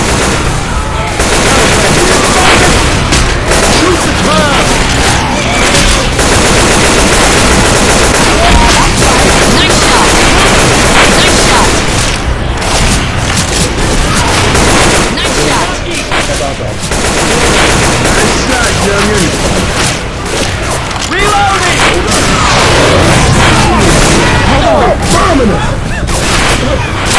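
Sustained rapid gunfire from Left 4 Dead 2 rattles on almost without pause, dense bursts of automatic shots layered with booms and game noise, with a voice calling out now and then underneath.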